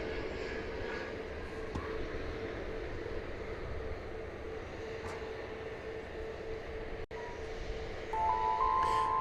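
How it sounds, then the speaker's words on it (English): An Airbus A320neo airliner at DFW Airport on a foggy morning gives a steady distant engine roar and hum, with a brief tonal beep near the end. "It's an Airbus A320 Neo."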